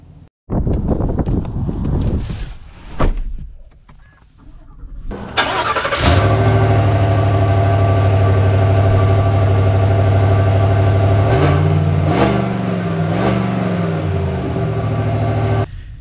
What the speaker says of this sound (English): Well, let us set off in the Chevy Tahoe LS.